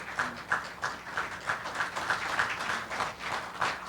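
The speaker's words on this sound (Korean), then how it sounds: "큰 박수로 축하해 주시기 바랍니다." Audience applause at a hospital director's inauguration and farewell ceremony in a hall, steady moderate clapping from a crowd with a light rhythmic pulse, fairly distant and even throughout, with no voices over it.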